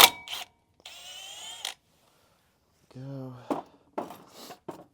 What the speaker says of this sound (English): I'm probably going to hit that with the impact as well